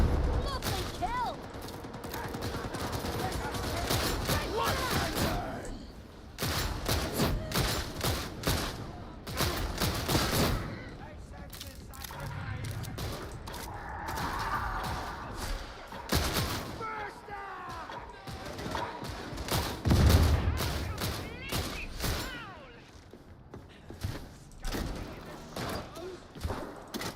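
Gunfire in the video game Darktide: rapid bursts and volleys of shots with crashes and thuds, loud and dense throughout, with a player's voice talking over the action.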